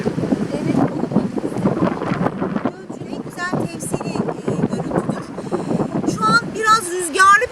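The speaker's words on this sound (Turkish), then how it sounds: "Biraz değil bayağı bir rüzgarlı bir hava var." Strong wind buffets the microphone with rough, gusty rumble while someone talks throughout.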